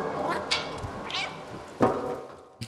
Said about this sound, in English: The little cat noises, that's really how they are.